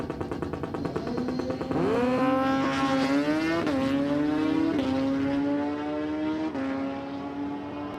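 At a drag strip, a Hayabusa motorcycle and a Firebird launch side by side, a loud engine note rising in rapid upshifting sweeps before fading slightly as the run continues away.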